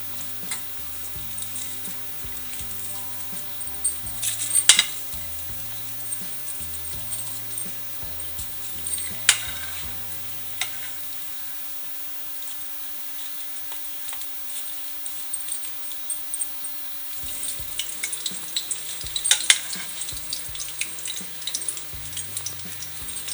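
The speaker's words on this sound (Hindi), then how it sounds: "ऑयल गरम हो गया तो अभी हम इनको फ्राई करते हैं।" Toffee chicken kebabs deep-fry in hot oil, a steady bubbling sizzle with occasional sharp clinks and scrapes of a utensil against the pan, heard close with no talking.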